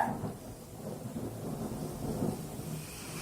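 Low rolling thunder during a thunderstorm, a faint distant rumble swelling and fading over a soft bed of rain, with no voices.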